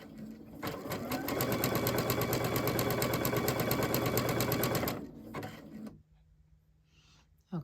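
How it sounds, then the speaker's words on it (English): A sewing machine runs a zigzag stitch with a 3.5 width and 1.4 length, making a loud, even whirring chatter for about four seconds before slowing to a stop. A soft click and quiet handling noise follow. "So lower your presser foot, and we're going to do a zigzag stitch."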